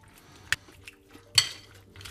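A spoon clinks against a bowl while a salad dressed with apple cider vinegar is stirred: a few sharp, separate metallic taps with soft wet shuffling between them, close up and without voices.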